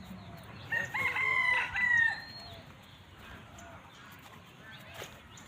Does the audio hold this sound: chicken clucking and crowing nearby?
yes